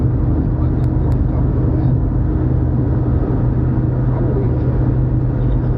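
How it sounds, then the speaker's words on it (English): Steady low engine and road rumble fills a car's interior on the drive home, loud and unbroken, with no talking. "I'm driving home from Temple."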